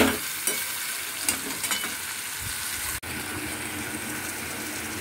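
Grated coconut being stirred into potato, pointed gourd and ridge gourd frying in a pan, a close, steady sizzle with scraping spatula strokes and one sharp click midway, with no talk.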